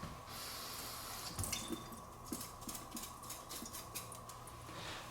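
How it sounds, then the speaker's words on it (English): A kitchen tap runs in a steady, moderate hiss while jalapeno seeds are rinsed, with small splashes and drips breaking through near the sink. "So I'm just taking out the core, rinsing out the seeds."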